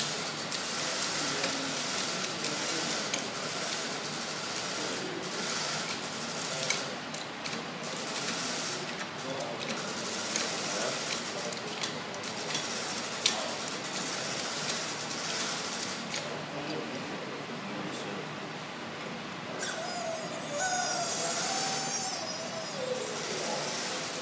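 A Lego lever mechanism bends a pipe, giving off a steady mechanical grinding and clicking, with scattered sharp ticks and a louder rasping stretch near the end, close and continuous.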